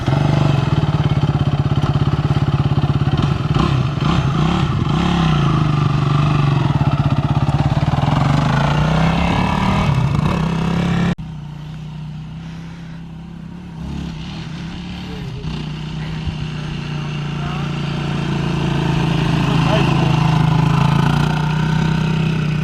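A 2021 Yamaha YFZ 450R ATV engine runs close by at a steady, buzzing idle with mild swells in pitch, while people talk over it throughout.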